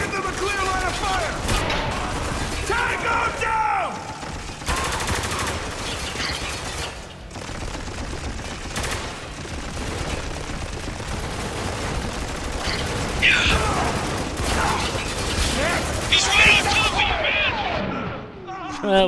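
Rapid turret gunfire from a hover vehicle in the shooter Spec Ops: The Line, a dense, sustained barrage of shots and impacts that stays loud throughout, mixed with other battle noise.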